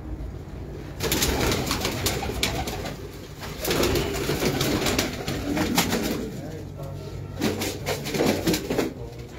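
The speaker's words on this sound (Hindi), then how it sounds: "सलारा टेडी कबूतर इसका नाम है हीरो" Pigeons coo steadily on a Multan rooftop, among them a Salara Teddy pigeon, with soft overlapping calls and occasional wing rustles close by over a low background murmur.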